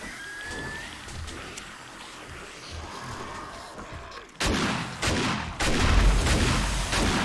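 Gunfire from a firearm in the video game 7 Days to Die, with a few loud, sharp reports in the last seconds that stand out over a busy, noisy game background.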